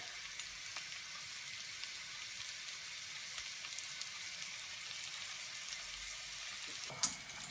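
Chopped leek and dried thyme fry gently in butter in a pan over low heat, giving a steady soft crackling sizzle throughout and a single clink near the end.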